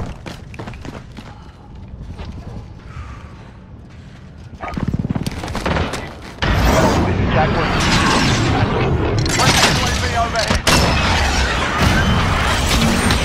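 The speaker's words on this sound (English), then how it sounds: "Cruise missile, go for launch." A video-game cruise missile launches with rising mechanical noise, then a loud, sustained roaring rush and crashing impact near the end, with voices heard over it.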